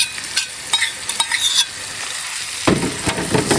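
Onion, ginger, green chili and garlic are stirred in a frying pan for chicken 75, with a spoon scraping and clinking against the pan over an ongoing sizzle that grows louder near the end.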